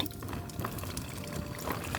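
Water is poured onto yeast for pizza dough at a campsite, making a faint, steady trickling splash that lasts about two seconds.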